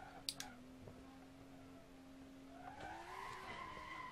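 A Tofaş car drifting along a dark mountain road in Assetto Corsa, its tires skidding and squealing in a long sustained screech over steady engine drone, with a couple of sharp clicks near the start.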